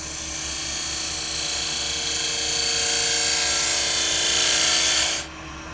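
A scraper shears across the surface of a Viking-style wooden bowl spinning on a lathe, giving a steady, close, raspy hiss over the motor's hum for about five seconds before it lifts off.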